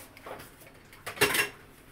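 A metal baking tray set down and handled before onions are layered in it for a baked tuna dish, with a light clatter followed by a louder, close metallic clank and rattle.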